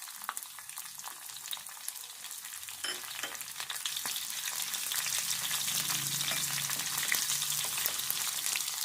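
Spices and chopped onion fry in a hot pan with a continuous bright sizzle that thickens and grows louder partway through, with a few faint stirring scrapes and no talk.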